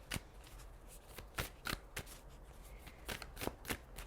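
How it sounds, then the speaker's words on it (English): Tarot cards are shuffled close up in a quiet room, making a series of sharp riffling flicks and soft papery shuffles at an uneven rhythm, with no talking. "I'm going to shuffle the cards"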